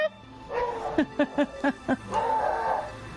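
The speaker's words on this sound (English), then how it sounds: "My dogs are barking at something that's outside." Several dogs bark at something outdoors, a quick run of five or six sharp barks in the middle, with a low murmur of room noise and faint background voices around them.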